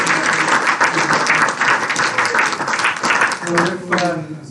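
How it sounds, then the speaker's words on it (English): Loud applause at a tech talk event for a guest named Dolph, dense clapping filling the room, with a voice starting to speak near the end as it fades. "Can we give Dolph a wonderful round of applause?"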